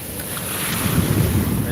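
Strong wind buffets the microphone over the rumbling wash of heavy sea waves, a loud, continuous roar with no pauses.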